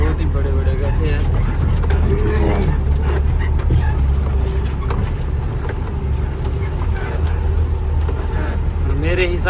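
Truck driving on a badly potholed road toward Baddi in Himachal, a loud steady engine rumble with bumps and rattles and intermittent squeaks, under a voice talking.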